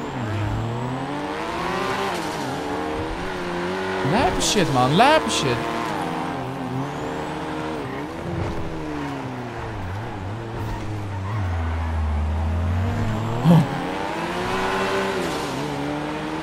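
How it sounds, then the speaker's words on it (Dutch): Engines roar and rev as fast cars accelerate away in GTA 5, with pitch sweeping up and down and a brief tire squeal, while someone talks excitedly over it. "Al die snelle auto's hier wegrijden."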